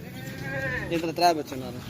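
Goats and their young kids bleat in wavering, nasal calls close by, with a couple of louder cries rising over the steady farmyard background while someone talks through most of it.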